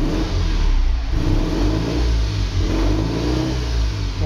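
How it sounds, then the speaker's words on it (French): A Panhard Dyna Junior engine lifted slightly above its roughly 1000 rpm idle, a steady mid-pitched car engine hum with mild revving swells, close and continuous with no talk. "J'accélère un tout petit peu."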